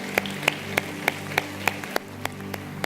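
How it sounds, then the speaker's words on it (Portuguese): A Portuguese-speaking church congregation claps in praise during a worship service, with single claps landing in a steady, even beat about three times a second against a soft background hum. "Vamos aplaudir ao Senhor uma vez mais."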